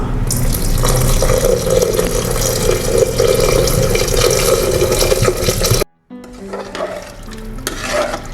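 Three measured cups of water pour steadily into a pot of mushroom biryani, a loud continuous rush and splash that stops abruptly near the end, followed by faint clinks and movement.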